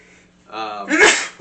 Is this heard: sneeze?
yes